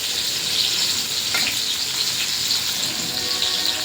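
Bitter gourd and potato fry in oil with a steady, close hiss and sizzle, a faint stir partway through, and no voices.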